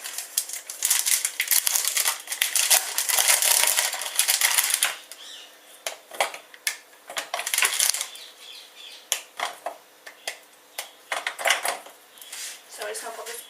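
Milk chocolate snapped and broken into pieces by hand for melting, a run of crisp close cracks and clicks that come in quick bursts, busy at first, then sparser, with some talk mixed in.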